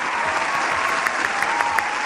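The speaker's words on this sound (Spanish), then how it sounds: "Fuerte el aplauso, por favor." A live audience gives loud, close applause, a dense burst of many hands clapping steadily with a few sharper claps standing out.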